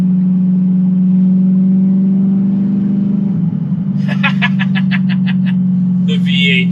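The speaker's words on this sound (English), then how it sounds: "The V8 just sounds so amazing." An Audi R8 V8 with a gated manual drones steadily and loudly from the cabin while driving. About halfway through, a person starts talking over the constant engine note.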